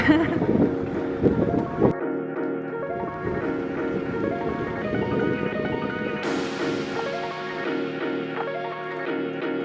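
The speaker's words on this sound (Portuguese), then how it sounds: "é conhecida por ter uma duna, mas também é conhecida por ter muito vento" Strong wind buffets the microphone at the dune on Patara beach in Turkey, a loud continuous roar with rumbling gusts and broadband rushing that carries through the whole stretch.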